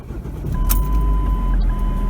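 Steady low road and engine rumble from a Jaguar car while driving, a continuous interior drone with a faint tonal whine and a brief click near the end, no talking.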